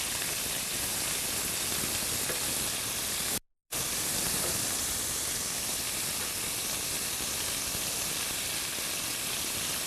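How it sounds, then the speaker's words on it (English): Lamb sautéing in a pan for Turkish yogurtlu kebap gives a loud, steady broadband sizzle and hiss, continuous apart from one brief cut, with no talking. "Here's the lamb sauteing first."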